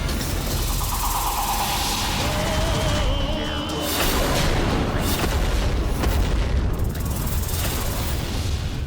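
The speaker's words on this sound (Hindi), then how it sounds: "ऐसा विनाशक विस्फोट इन देवियों को हताश करेगा" A big booming explosion in a Hindi mythological TV drama rumbles and crashes continuously, with roaring debris and layered blasts filling the scene for several seconds.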